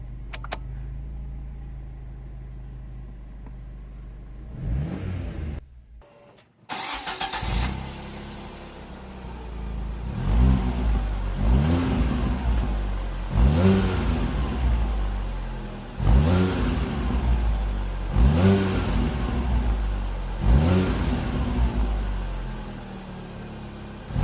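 A Fiat Panda 100hp engine cranks and catches, then idles and is revved repeatedly in a steady rhythm of rising and falling bursts, loud and close.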